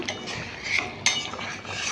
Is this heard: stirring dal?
yes